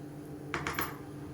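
Lid set onto a pressure cooker pot while black chickpea curry cooks: two or three quick, light metallic clinks close by against a quiet kitchen background.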